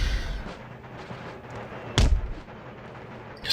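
Artillery and musket fire in the Napoleonic-era strategy game Empire: Total War, with a distant rumble of battle broken by two sharp, loud cannon blasts, one near the middle and one at the end.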